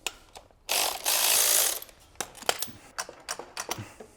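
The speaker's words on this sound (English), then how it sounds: "Gonna unbolt those lines there." A ratchet working to unbolt lines on an Alpina B7 engine: a long fast buzzing ratchet run, then a series of short sharp clicking bursts, close and clear with no speech.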